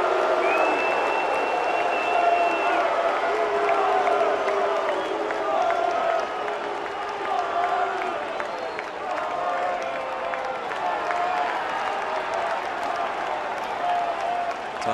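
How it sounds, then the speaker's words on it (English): Baseball stadium crowd roars and jeers at pitcher Matt Garza during a 2014 MLB game, a dense, steady wash of voices and cheering that stays loud throughout without letting up. "Garza's hearing it from the crowd."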